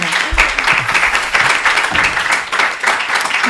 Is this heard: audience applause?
yes